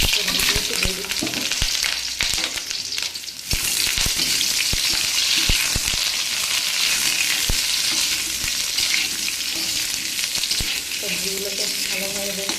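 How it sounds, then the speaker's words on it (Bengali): Potato and brinjal pieces fry in a pan with cumin, for a Bengali hilsa fish curry. A steady loud sizzle runs throughout, broken by frequent sharp scrapes and knocks of a spatula stirring the vegetables, with no talk. "সবজিগুলোকে ভালোভাবে বেশ নেড়ে চেড়ে ভেজে নেব"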